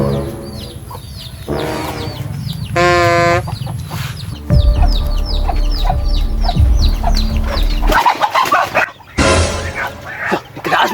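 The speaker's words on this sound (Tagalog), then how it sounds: "Ay patingog ang manok ba?" Chickens cluck repeatedly during a nighttime chicken theft, close and busy, with a dog barking and people talking over and between the clucks amid rustling movement.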